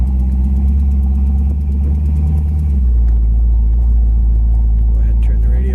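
A black 1934 Ford street rod's engine idles steadily with a deep, close low rumble that persists throughout, with a brief shift in tone partway through.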